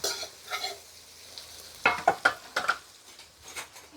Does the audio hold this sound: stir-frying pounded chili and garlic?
yes